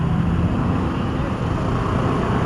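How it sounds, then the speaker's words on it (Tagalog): Road traffic rumbles as a dense, steady wash of engine and tire noise, close by and unbroken for the whole stretch. "Yan guys, traffic"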